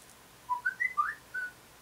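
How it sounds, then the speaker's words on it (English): A mobile phone goes off at a model-building desk, giving a short series of high, chirpy whistle-like tones in a quick irregular pattern, fairly faint and with no talk. "That's just my phone gone off."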